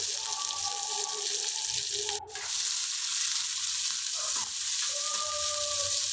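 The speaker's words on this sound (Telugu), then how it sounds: "ఒక ఎర్రగడ్డ వేసి బాగా వాడ్చుకోండి" Sliced onion sautéing in hot oil with mustard seeds, cumin and curry leaves for tomato gojju, a constant close sizzle with scattered scraping and stirring knocks.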